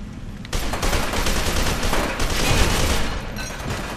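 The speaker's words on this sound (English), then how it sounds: "But I do want to try out the assault rifle." Assault rifle fire in the shooter game F.E.A.R. 2 erupts after a brief quiet moment, then continues as loud, dense, sustained automatic bursts with heavy booming impacts.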